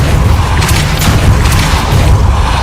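A Repulsor spell fires in a Harry Potter video game, a loud booming blast with a roaring low rumble and sharp crackling bursts sustained throughout, no speech.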